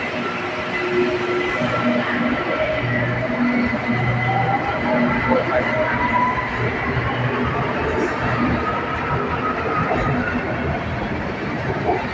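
A BTS Silom Line skytrain in Bangkok rumbles into the platform close by, steady rolling wheel noise with faint squeals, continuous for the whole stretch.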